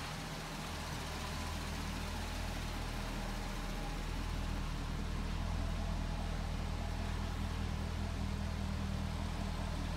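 A 2005 Chevrolet Corvette in Le Mans blue with a chrome exhaust tip idles steadily, a low, even engine rumble with a light chug, heard alone with no voices.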